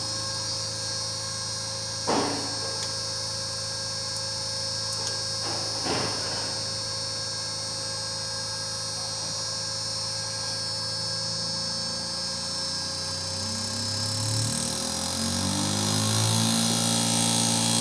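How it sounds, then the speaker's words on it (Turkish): An inverter air conditioner compressor motor hums and whines steadily, then its tone climbs in pitch as the motor speeds up toward the end, with a couple of brief clicks early on. "Şimdi motorumuzun herzini yükselteceğiz."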